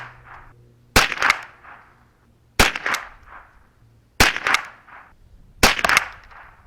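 Remington Cyclone .22LR rounds fired from a 10/22 rifle: four sharp, loud cracks spaced over a second apart, each with a brief echoing tail, outdoors with no talking.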